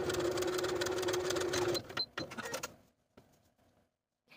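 A sewing machine stitching an elastic casing closed on a dress, a fast, close, rhythmic mechanical whir for under two seconds, then a few handling clicks and quiet.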